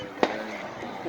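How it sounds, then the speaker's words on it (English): A single distant firework bang on a July 3rd evening in Ohio, one sharp muffled pop followed by faint rumble, amid a murmur of people talking. "Nope, that's not our fireworks. That's other people's fireworks."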